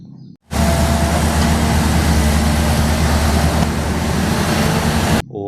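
A toy excavator's motor drones steadily, loud and close, with a constant buzzing hum that starts and stops abruptly.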